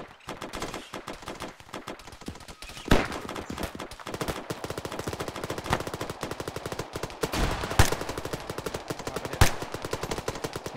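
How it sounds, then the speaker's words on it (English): Sustained rapid gunfire in the military game ArmA: a steady stream of close automatic shots, with several heavier, louder reports punching through at intervals. "TT, give it rapid fire. Fucking brass up anything in that location in 5 seconds."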